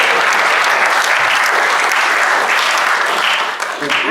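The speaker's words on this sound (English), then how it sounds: "get Deline a round of applause" A Rotary club meeting audience claps in a dense, steady round of applause for a member, loud and continuous throughout, tapering slightly at the very end.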